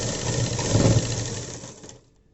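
A sewing machine stitches the neck of a dress in one short, fast burst of whirring, loud and close, then winds down and stops.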